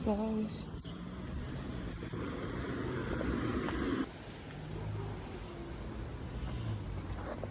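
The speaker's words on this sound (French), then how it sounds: "Mais il y a les voitures partout." Street traffic passes steadily in a city quarter of Bucharest, a continuous rumble of cars with a louder surge ending near the middle, while someone talks over it.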